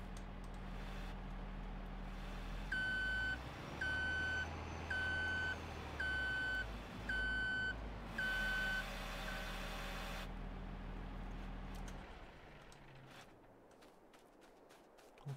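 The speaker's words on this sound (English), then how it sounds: "let's park the wheel loader for today" Wheel loader in Farming Simulator 2022 parking at a mining site: a series of evenly spaced reversing beeps over a deep idling engine rumble, then the engine winds down and stops, leaving quieter background hum.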